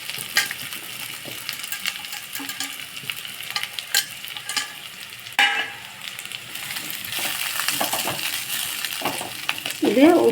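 Green chillies and cumin fry in a pan for a Tamil festival chundal, giving a steady close sizzle with occasional stirring scrapes and a few metallic clinks, with no talking.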